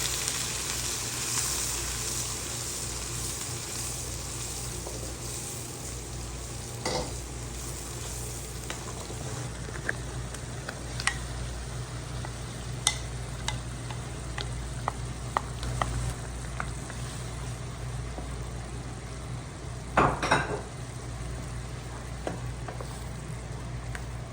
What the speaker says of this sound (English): Then we'll add in blended shallots and mix everything together.